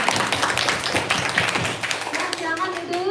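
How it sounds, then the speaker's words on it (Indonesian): Schoolchildren at an elementary school in Tabanan, Bali clap for a classroom group, a steady patter of many small hands filling the room while a teacher's voice carries over it. "Tepuk tangan buat kelompok 6."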